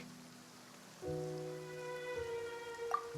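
Rain falls steadily in the Genshin Impact video game, a soft, quiet patter of drops running under sustained game music tones.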